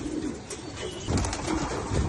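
Male pigeons, eager to pair, coo in a loose, steady chorus of deep, rolling throaty calls, fairly loud and near with no voices over them.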